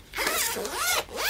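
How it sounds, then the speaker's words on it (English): The zipper on a suede-covered card binder for Magic: The Gathering cards runs closed in one quick, continuous zip with a couple of rising and falling sweeps, close and clear, with no talking. "Super easy to zip"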